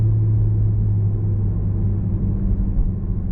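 A 2021 Toyota Supra with the 3.0 engine pulls through the gears while driving, a steady low engine drone and rumble heard from inside the car, loud and continuous with no talk.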